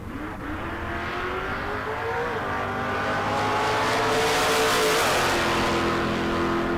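A green and white 1966 or 1967 Mustang launches against a Camaro in a bracket drag race, engines revving hard and rising in pitch as the cars accelerate, loud and steady throughout, with no voices.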